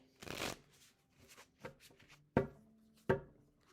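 A tarot deck is shuffled close by in several separate bursts, with rapid riffling and sharp slaps of cards against one another, amid soft handling noises and faint quiet moments.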